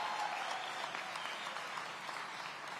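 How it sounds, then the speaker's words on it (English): A room full of people claps steadily at a city public safety and engagement address in Aurora, a short, even burst of applause with no talking over it. "Let's give Clayton Muhammad a round of applause"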